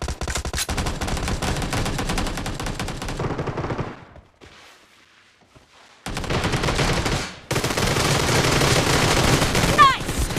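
Rapid automatic gunfire bursts from the mobile battle royale game PUBG Mobile, loud and dense, dropping to a near-silent pause midway before heavy firing resumes to the end.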